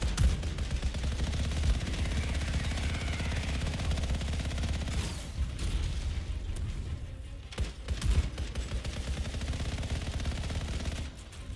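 Sniper rifle fire and other weapon shots in the online shooter game Anthem, dense and continuous across the clip with louder bursts near the middle and end, no talk over it.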